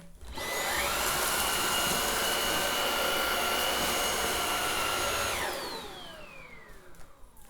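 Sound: Xiaomi Dreame V10 cordless stick vacuum cleaner running on mode one

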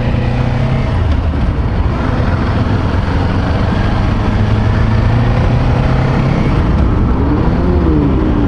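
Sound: loud cars on the road heard from a motorcycle ride

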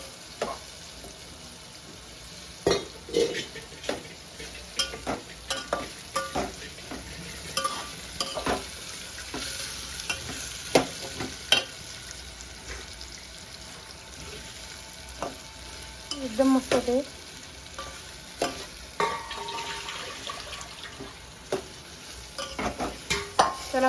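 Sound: stirring sweet papaya cooking in a pan

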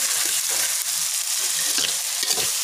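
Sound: frying ground shallot, garlic and chili spice paste

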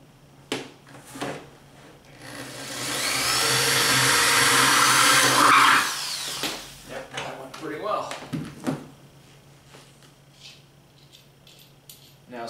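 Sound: drilling a hole through plastic jug

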